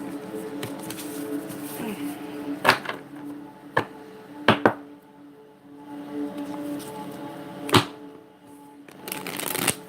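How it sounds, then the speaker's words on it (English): Riffle shuffling of a tarot deck, several sharp bursts of fluttering cards separated by quieter pauses, close and clear over faint background hum. "Two more shuffles."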